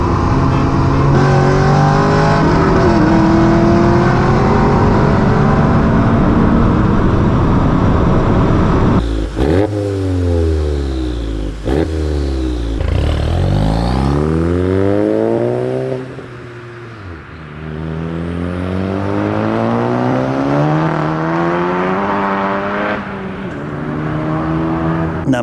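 Golf GTI with an E85-fuelled Vortex turbo pulling hard toward 7000 rpm, loud engine and turbo rising steadily, then repeated upshifts with the revs climbing again after each.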